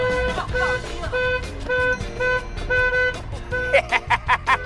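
Car horns honking in traffic, several toots of varying length in an uneven sequence, ending in a quick run of short repeated blasts, loud and near over road noise.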